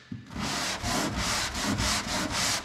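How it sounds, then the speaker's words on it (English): Sandpaper rubs back and forth over tacky, powdering body filler on a car door, steady rhythmic strokes close and loud with a brief pause at the start. "It's barely sticking to the sandpaper."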